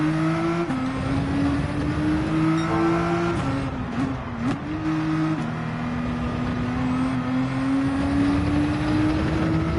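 A race car engine in Gran Turismo 7 drones steadily at high revs, dipping briefly during a gear change and then climbing again, with a constant loud engine hum and tire noise.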